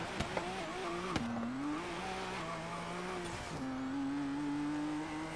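Modded Ford GT in Forza Horizon 3 pulling away gently, its engine note climbing through rising pitch with a gear change midway, steady and close, with faint tire noise and no talk.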